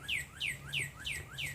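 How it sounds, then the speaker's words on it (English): In a spring garden with a fountain, a bird repeats a quick descending chirp about every third of a second, clear and moderately close against a low background hum. "we have birds singing"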